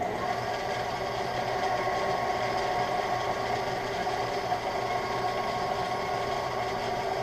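A Brown & Sharpe 4-1/2 indexing center plunge-cuts a part, giving a steady, even mechanical hum and whine that stays constant and close throughout, with no talking.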